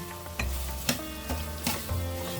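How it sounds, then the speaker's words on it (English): Whole spices sizzle and crackle in hot oil in a pan while being stirred for a chicken korma, with steady frying hiss and a few sharp stir scrapes, close and alone. "And now is where the aromatic starts to build. Let's fry them nicely."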